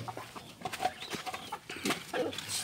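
Backyard rooster and chickens on a farm, several short clucks and calls scattered across the moment at moderate distance, with other faint yard sounds.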